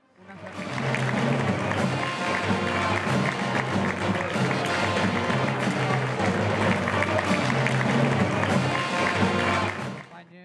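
Crowd lining a Moors and Christians parade in Castelló applauding as floats pass, sustained clapping mixed with band music and crowd noise for about ten seconds, rising in and fading out.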